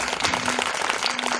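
An audience at a Bhagavat Katha religious gathering in a village claps steadily for a short burst, dense and fairly close, with no talking over it.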